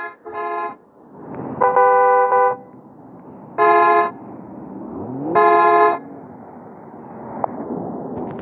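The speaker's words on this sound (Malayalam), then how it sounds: "ഹോൺ അടിക്കാം" Car horn honks in the multiplayer driving video game Driving Zone Online, four loud sustained blasts spaced about a second apart over a low engine hum, with no voices.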